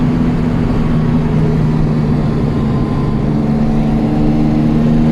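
A Jaguar E-Type's engine with three SU carburettors drones loud and close, a steady mid-pitched hum with little change in pitch.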